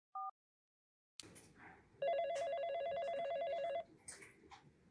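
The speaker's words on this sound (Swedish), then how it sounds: "Josef tog fram sin mobiltelefon och ringde till förlossningen på Östra sjukhuset" A mobile phone call to a hospital maternity ward starts with a short beep, then a sustained electronic ringing tone sounds for almost two seconds, quiet and clear against near silence.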